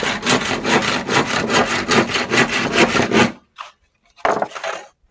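A hand saw rasps through firewood in quick back-and-forth strokes for several seconds, then stops, followed by a few scattered scrapes.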